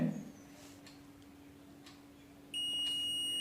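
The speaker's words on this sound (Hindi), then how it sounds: "अगर बीप का साउंड आता है तो हमारा फ्यूज ओके है।" A digital multimeter gives a continuity-test beep on a fuse: a steady, clear electronic tone starts partway through and holds to the end, after a quiet stretch with a low hum.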